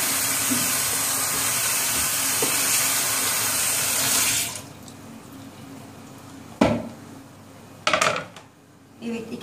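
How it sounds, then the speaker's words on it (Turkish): A faucet runs loudly, then cuts off, followed by a few sharp knocks and rinsing sounds as a cutting board is washed at a kitchen sink nearby. "şimdi tahtamızı bir yıkayalım"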